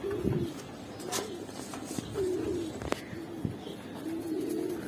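Bagha and Giribaz pigeons from the same loft coo in a repeated series of soft, low rolling calls, fairly close, with a few sharper chirps and clicks in between and no talking.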